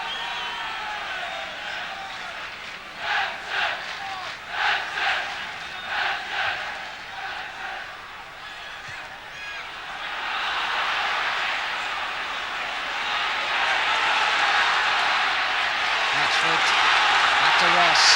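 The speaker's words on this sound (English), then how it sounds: "The crowd beginning to urge Everton forward." A football crowd at a 1979 Everton match swells from scattered roars into a broad, rising, sustained cheer, distant and massed, beneath a commentator's voice.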